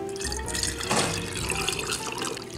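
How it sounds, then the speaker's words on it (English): Pineapple juice pours from a can into a baking dish over pineapple for an upside-down dump cake, a short liquid gurgle and splash that peaks briefly near the middle before trickling on, with no talk. "I'll go ahead and pour the pineapple juice in here."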